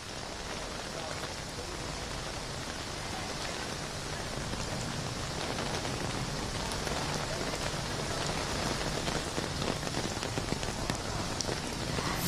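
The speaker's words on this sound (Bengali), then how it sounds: "এখনও হালকা বৃষ্টি হয়ে চলেছে" Heavy evening rain from a Kalbaishakhi storm in Kolkata pours down steadily, a dense, even hiss of drops on surfaces that holds at a constant level throughout with no voices.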